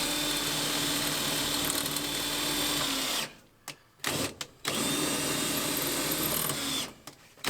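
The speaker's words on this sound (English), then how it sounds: "Fetch me my drill." A power drill brought out for work on a ratty old Dodge Charger whirs loudly and steadily, then cuts off in a couple of short stop-start bursts before running again near the end.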